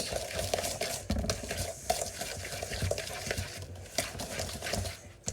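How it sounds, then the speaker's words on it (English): Keto brownie batter being whisked in a bowl, a rhythmic scraping and tapping of the whisk against the sides, close and moderately quiet, repeating steadily for several seconds. "now I'm just going to go ahead and whisk this all together until it is combined"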